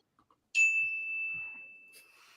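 A single bell rings to mark the end of speaking time on a sports debate show. It is one bright, clean ding that rings on steadily for well over a second before fading, with only faint, sparse sounds around it.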